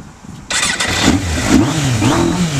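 A 1994 Suzuki GSX-R1100 motorcycle engine, still cold, cranks and fires up abruptly, then settles into a loud, steady idle with slight revs rising and falling, close by, with no talking.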